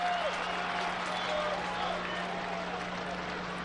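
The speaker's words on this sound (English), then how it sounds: "Appalachian State players applauding" Players applaud at a 2007 college football game between Georgia Southern and Appalachian State, a steady wash of clapping and crowd noise heard from a distance under a low broadcast hum.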